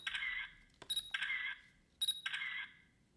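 A Cinnamoroll mini digital camera fires off burst photos in selfie mode, giving three quick, faint electronic shutter chirps with short tonal beeps, each separated by about a second of near silence.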